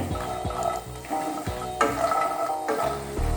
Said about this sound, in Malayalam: കുറച്ച് അണ്ടിപ്പരിപ്പ് വറുത്തെടുക്കാം കേട്ടോ.